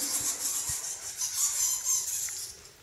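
Bats in India squeak and screech in a high, continuous chatter, faint to moderate in loudness, with a few soft thumps underneath.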